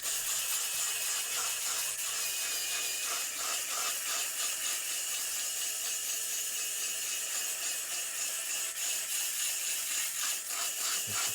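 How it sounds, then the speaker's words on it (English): An electric callus sander, a small foot-care tool, runs steadily as a continuous high-pitched whirring hiss with faint rubbing texture throughout, close and fairly loud, with no talking. "This is a callus sander."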